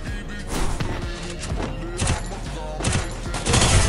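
Gunfire rings out in a battle royale video game, dense bursts of shots and impacts layered over game music and effects, loud and busy throughout.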